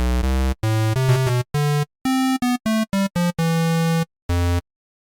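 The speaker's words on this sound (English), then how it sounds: "But the square waveform sounds like this." Synthesizer playing a square waveform in a series of short, separated notes at varying pitches, each tone bright, buzzy and rich in upper harmonics with a retro video-game character, heard alone with no talking.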